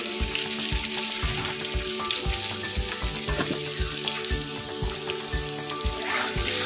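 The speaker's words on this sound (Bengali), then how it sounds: "এবার একটু এই নুন হলুদ দিয়ে একটুকে এটা ভাজা ভাজা করতে হবে" Potatoes frying in a pan with salt and turmeric, a steady close sizzle with regular tapping and scraping of a spatula against the pan throughout.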